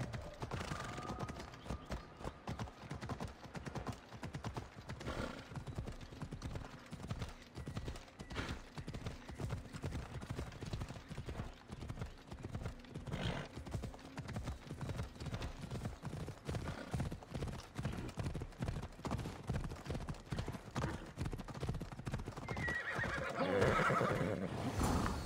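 In the video game Assassin's Creed Odyssey, a horse trots with steady clip-clopping hooves over a long stretch, now and then giving a whinny or a neigh. The sound is moderately quiet, with faint game ambience behind it.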